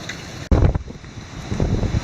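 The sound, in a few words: wind gusts during Hurricane Matthew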